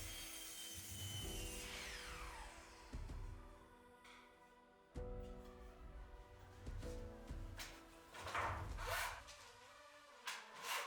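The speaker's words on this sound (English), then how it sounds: "I used my miter saw to cut them in half before gluing them up" A miter saw cutting cedar boards in half, the blade whining up and biting through the wood in several separate cuts, each surge of the motor followed by its spin-down and handling noises.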